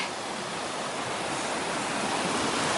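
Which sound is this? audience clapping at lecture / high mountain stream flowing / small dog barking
high mountain stream flowing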